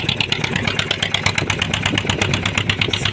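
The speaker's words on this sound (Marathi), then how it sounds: "या आपली होडी स्टार्ट आहे।" A small boat's engine runs steadily just after starting, a loud, close, even rhythmic putter that carries on alone without pauses.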